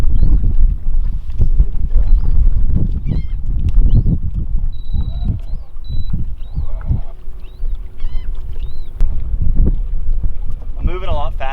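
A fishing boat drifts down a shallow bank on a trolling motor in a 25-knot wind, with heavy, rumbling wind buffeting and water noise filling the whole stretch, plus a few faint higher tones scattered through.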